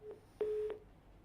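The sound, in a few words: telephone line tone after call disconnects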